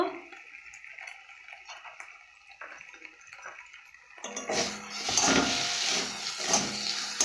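Chopped tomatoes with a little salt hit a pan while making sauce, starting as a faint crackle and swelling into a louder, steady frying sizzle with a soft scraping stir partway through.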